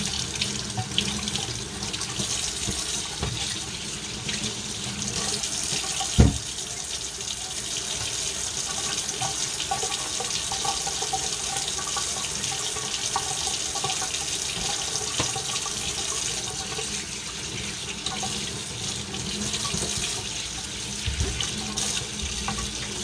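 Cold water runs steadily from a kitchen tap into a sink, a continuous close rushing stream with one brief knock partway through.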